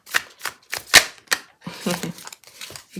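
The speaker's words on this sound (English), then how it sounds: "Let's look at how it shuffles though." A tarot deck by a Hungarian creator is handled and shuffled up close, giving a series of crisp, papery card snaps at an uneven pace, followed by a softer rustling stretch with a little voice beneath.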